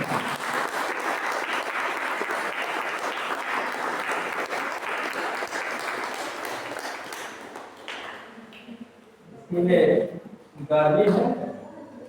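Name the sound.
church congregation clapping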